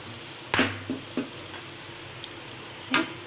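Hot tempering poured over cooked chickpeas in a pan sizzles briefly, with a few sharp clinks of a utensil against metal and quiet frying in between.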